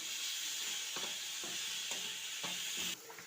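Tomato being stirred into sautéed onion in a pan while making crab roast, a constant frying hiss with a few soft periodic scrapes of the spoon, close and fairly quiet.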